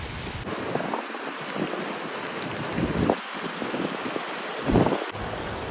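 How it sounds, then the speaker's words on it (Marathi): A dense, steady hiss of heavy monsoon rain at a waterfall spot near Pune pours throughout, with gusty rumbles and splashing surges rising every couple of seconds. "एकदम जोरात पाऊस चालू आता"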